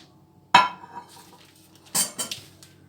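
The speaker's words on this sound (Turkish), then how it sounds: "Şimdi ters çevirip tepsimden çıkarıyorum" A cake being turned over out of a baking tray: a sharp metallic clank, then a few lighter clinks and knocks of the tray, close and otherwise quiet.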